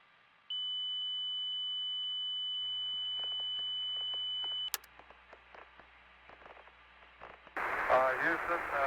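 Apollo 13 spacecraft master alarm for a battery warning: a steady, piercing tone holds for about four seconds and then cuts off, followed by crackling radio static and voice transmission.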